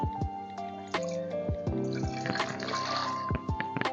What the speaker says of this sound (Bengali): এই যে একটা ধুতি নিয়েছি এই ধুতিটাকে ভিজাবো এই যে এটাকে ভালোভাবে নিংড়াবো ধুতিটাকে